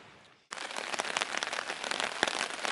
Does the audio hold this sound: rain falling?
yes